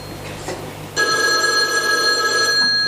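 A telephone bell starts ringing abruptly after a short quiet moment and continues as a loud, sustained, close ring to the end.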